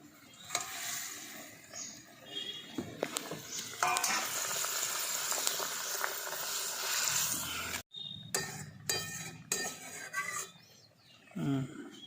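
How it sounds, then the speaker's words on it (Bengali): Curry gravy for a vegetarian jackfruit kofta curry boils in a pan, a busy sizzling bubble with occasional utensil clinks, briefly broken by a short gap before bubbling resumes. "দেখুন গ্রেভিটা খুব ভালোভাবে ফুটে গেছে।"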